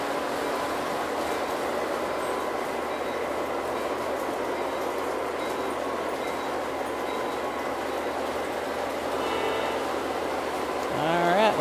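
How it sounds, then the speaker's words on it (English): A Lionel model train rolls steadily into the yard on a home layout, a continuous near rumble of wheels on track with a faint rhythmic clatter, ending in a brief squeal at the very end. "And now he's coming into the yard to stop with the other train."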